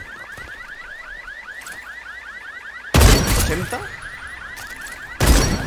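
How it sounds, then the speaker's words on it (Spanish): Car alarms blare in a vampire battle royale video game, a rapid repeating electronic whoop cycling steadily, joined midway by loud crashing bursts and game noise. "¿Pueden dejar de sonar las alarmas de los coches"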